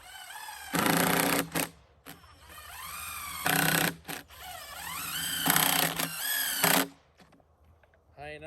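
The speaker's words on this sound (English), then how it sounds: "Just putting in the basic Robertson 3-inch screws." A power drill drives basic Robertson 3-inch screws into wood for chainsaw-milled beams, three loud whirring bursts with rising pitch, up close, with brief pauses between them.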